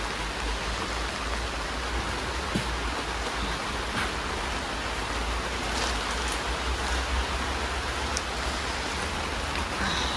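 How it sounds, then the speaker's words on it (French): Heavy rain falls steadily outdoors at a secondhand market, a dense, even hiss of drops on surfaces that continues unbroken throughout, with scattered louder splashes nearby. "Oula, il pleut beaucoup."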